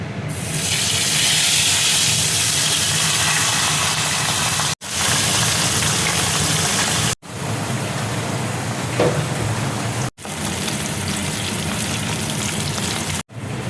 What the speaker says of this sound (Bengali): এবার আমি মাছের মাথাটা দেখো তেলের মধ্যে ছেড়ে দিচ্ছি।